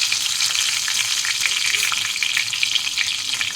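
Nigella seeds and torn green chili frying in hot oil, a loud, dense, steady crackling sizzle heard up close with no talking.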